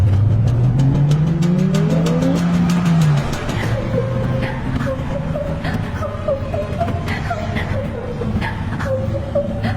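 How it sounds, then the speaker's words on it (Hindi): A car accelerating hard on the road, engine revving up in a rising whine that then settles into a steady loud drone with a faint squealing edge, close and continuous. "सुमित गाड़ी की रफ्तार तेज करता है।"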